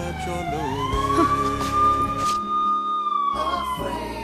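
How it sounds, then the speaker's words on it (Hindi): A wailing police siren rises and holds a long steady tone, loud and close, over a rumbling background. "पुलिस का सायरन सुनकर वह भाग जाती है"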